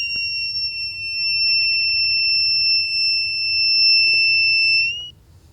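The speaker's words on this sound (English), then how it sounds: "Well, it immediately beeped." A metal detector kit's buzzer sounds one continuous high-pitched electronic beep for about five seconds, loud and close, then cuts off.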